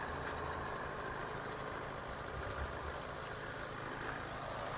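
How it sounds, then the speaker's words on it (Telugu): A Hyundai Accent car engine idles steadily with a low, even rumble that holds constant throughout, close by and without talk. "బీటింగ్ కూడా చాలా క్లియర్గా ఉంది చూడండి"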